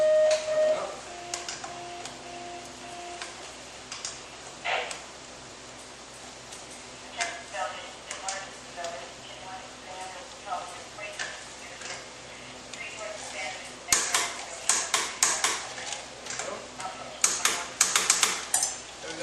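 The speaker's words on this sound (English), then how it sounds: "We need to tighten the rear axle nut here." A torque wrench tightens the rear axle nut of a Nytro snowmobile to 54 foot-pounds in a garage, producing close ratcheting ticks and metallic clicks that come in bursts and grow denser and louder near the end.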